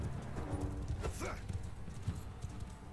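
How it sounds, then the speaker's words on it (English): Horse hooves clip-clop in a Mount and Blade 2: Bannerlord large melee battle, a steady rhythmic patter of hoofbeats over busy game ambience. "You put me on a horse!"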